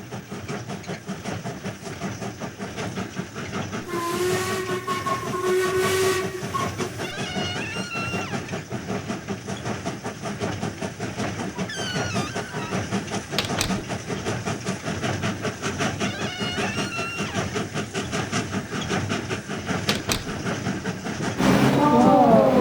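A steam train of the Atlantic Coast Line Railroad pulls into a stop at Lake Placid, its clattering wheels and rumble running throughout while a whistle sounds clearly near the start. Other loud rail noise fills the rest of the clip.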